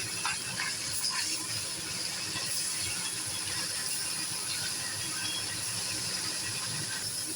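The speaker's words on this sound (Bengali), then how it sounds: "আমি মাছগুলোকে একটু হালকা করে ভেজে তুলে নেব" Morula fish sizzle steadily in hot oil, a dense, continuous crackling hiss with tiny pops that stays loud and close throughout, with no talking.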